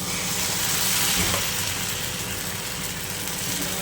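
Batter hits a lightly oiled pan and sizzles in a dense, loud, steady hiss that holds throughout, with a brief soft thud near the start.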